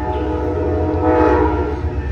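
Amtrak Coast Starlight train 14, led by a P42 locomotive, rumbles past at Oakland's Jack London Square, with a loud sustained horn over heavy rail noise close by.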